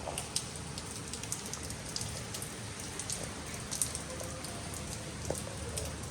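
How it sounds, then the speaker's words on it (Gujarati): Heavy rain falls steadily outside at the Matheran hill station, a soft continuous hiss broken by scattered drop patters, fairly faint and with no voices. "હવે બહાર તો ભાઈ ફૂલ વરસાદ આવી રહ્યો છે, તમે એકવાર ચેક કરો."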